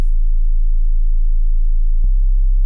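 A pure synthesizer sine-wave sub-bass note holds steady and loud throughout, dropping very low, with a brief click partway through and nothing else around it.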